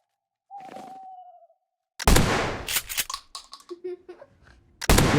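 Gunfire in a Minecraft horror game: after a brief tone, a burst of sharp, loud shots and impacts crackles in quick irregular succession, followed by another shot at the end.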